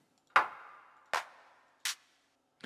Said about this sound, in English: Then we got a clap layer made up of 3 sounds.